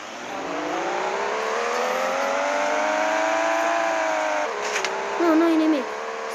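A car engine revs up steadily, its pitch rising and holding before dropping off, then a short second surge follows, loud and close.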